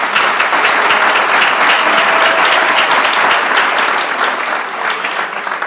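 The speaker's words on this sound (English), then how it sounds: "Can we give him another round of applause?" A room full of people at a bar association reception clapping steadily, loud and sustained, slowly tapering toward the end.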